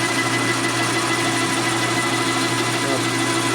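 A steady mechanical hum and whir of a metal lathe running in gear, continuous and fairly loud, with a faint rattling texture and no talking.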